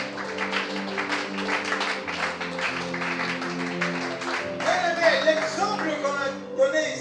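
A church congregation applauding, steady close clapping sustained for several seconds beneath organ-like music, swelling louder toward the end.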